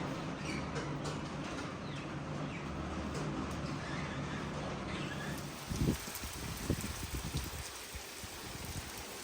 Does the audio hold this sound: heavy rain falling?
yes